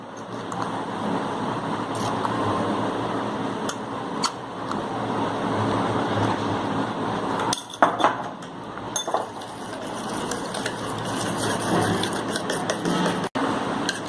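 Multani mitti clay is stirred with cucumber juice in a bowl, making a steady scraping, clinking sound against the bowl with a few sharper knocks partway through.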